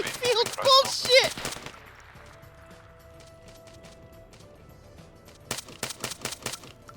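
Bursts of automatic gunfire from a WW2 shooter game, with a dense volley at the start fading out, then another rapid string of sharp shots near the end; a voice is mixed in with the opening burst.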